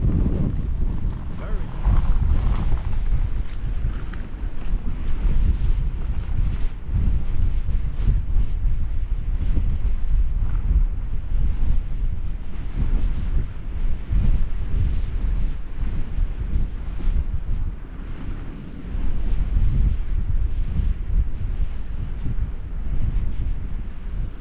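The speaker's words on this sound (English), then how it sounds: "I think now the wind noise and the wind speed are picking up again" Strong wind sweeps across the exposed ridge of Ingleborough, buffeting the microphone with loud, continuous low rumbling and gusty roar, rising and falling slightly but never letting up.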